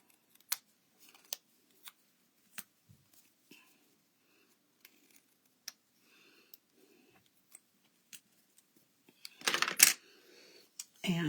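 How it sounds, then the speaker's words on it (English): Scissors trim paper ends for a stamped handmade card with a series of sharp, separate snips spaced about a second apart, close and fairly quiet, followed by a brief rustle of paper. "And now I can just trim off these ends."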